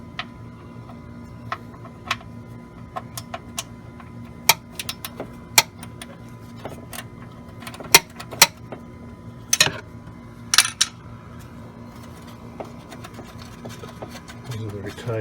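A 10mm socket ratchets and knocks against a bracket bolt on a 2007 Honda Pilot. Scattered metallic clicks and taps of varying strength sound over a steady low hum with soft handling noise.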